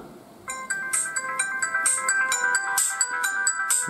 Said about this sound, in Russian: а что же у нас стандартные мелодии? Карбон.